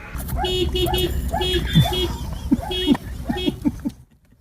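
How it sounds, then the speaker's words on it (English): A small dog barks repeatedly in short yips while a car horn toots in quick bursts from inside a parked car outside a Subway restaurant in Grove City, with a voice talking over it. "saw this little dog barking and honking at its owner to hurry up"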